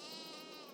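A sheep bleats in Farming Simulator 22, one sustained, nasal, wavering call that fills the whole short moment, close and steady.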